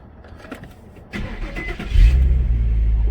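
A 2007 Infiniti M35 with its 3.5 V6 starts up: a few clicks and a brief starter whir, then the engine fires with a rise in revs and settles into a close, steady idle.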